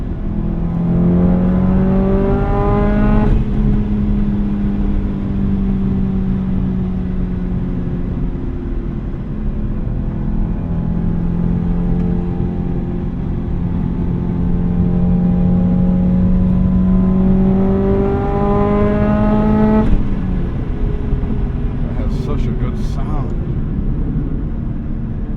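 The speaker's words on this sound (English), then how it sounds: "Does have a titanium exhaust, so I love it." A 2005 Subaru WRX STi with an EJ207 engine and titanium exhaust accelerates hard through the gears, its raspy exhaust note climbing in pitch with each pull, then dropping at the shifts, loud and close.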